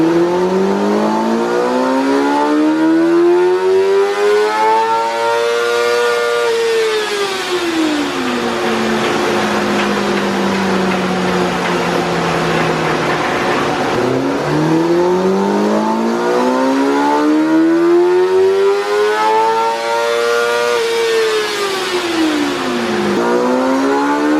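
A 2024 Kawasaki ZX-6R sport bike with an Akrapovic exhaust revs hard on a dyno, the loud engine climbing through repeated sweeping pulls and dropping back between runs, close and continuous with no talking.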